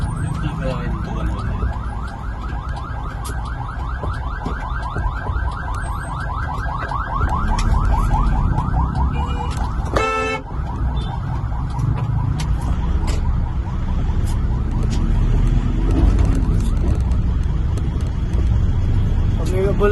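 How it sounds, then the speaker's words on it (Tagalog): An ambulance siren wails in a rapid, steady warble on a busy road in Bagong Silang, Caloocan North, loud and continuous over traffic noise, with a person talking. "Pag may ambulansya na ganun guys"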